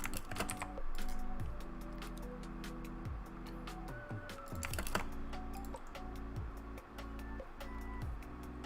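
Quick, irregular keystrokes clatter on a computer keyboard close up, with bursts of clicks and brief pauses over a faint low background hum, and no talking.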